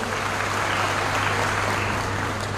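Steady, dense audience applause fills a Nationalist Congress Party review meeting of office-bearers and workers in Karjat taluka, continuous and fairly loud throughout with a low electrical hum beneath.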